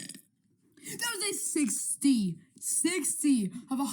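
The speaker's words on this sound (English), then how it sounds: "60 of 100 days of burping." After a brief silence, a series of close, loud, throaty burps rolls out in quick succession, part of a daily burping challenge.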